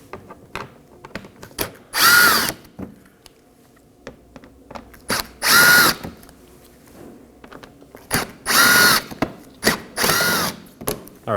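A cordless power drill backs out Phillips head screws from the corners under the front bumper of a 2015-2023 Nissan Maxima, in about four short, loud whirring bursts separated by quiet pauses and small clicks.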